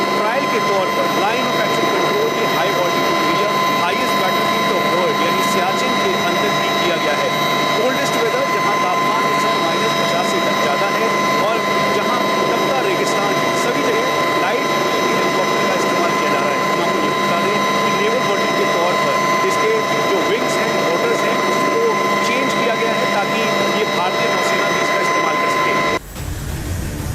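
Inside the cabin of a HAL Light Utility Helicopter in flight, a loud, steady engine and rotor roar with high whining tones runs unbroken for the whole stretch, with a voice faintly beneath it.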